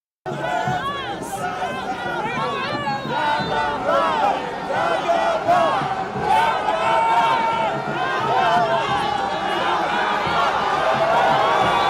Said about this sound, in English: he received very huge applause from his supporters around and beyond Nigeria